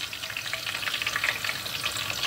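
Zucchini pieces fry in hot oil for a Turkish kabak oturtma dish, a dense, crackling sizzle with constant bubbling, close and steady throughout, no voices.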